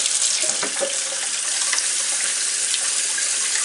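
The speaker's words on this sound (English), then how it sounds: "I'm going to go ahead and add the cold water here" Cold water poured from a tap into a container of sweet tea, a steady hissing splash of running water lasting several seconds, close and fairly loud with no talking.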